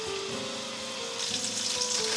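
Pasta ingredients, including whitebait and semi-dried shiitake mushrooms, being stir-fried in a pan. A steady quiet sizzle grows brighter halfway through as the food is stirred, with no talking.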